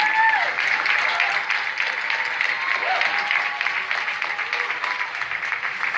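A crowd claps steadily for several seconds at a graduation ceremony, a warm, sustained round of applause filling a large room.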